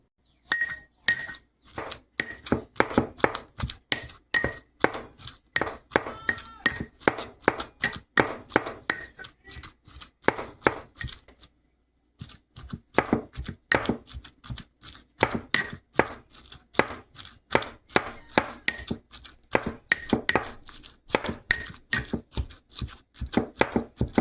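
Meat for shami kabab crushed in a mortar, a dense run of sharp, loud pounding strikes with a ringing, clinking metallic edge, steady and rhythmic for the whole stretch with a brief pause midway.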